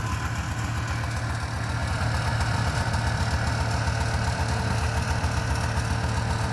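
Two-stroke engine of a Subaru 360 van idling while warming up, a steady buzzy putter with a low rhythmic thrum, close and constant, growing slightly louder after a couple of seconds.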